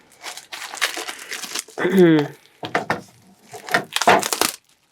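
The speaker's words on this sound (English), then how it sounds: "Let's unwrap this." Plastic wrap crinkling and tearing as it is pulled off a Tales from Dark Crisis hardcover book, in several close rustling bursts mixed in with a person talking.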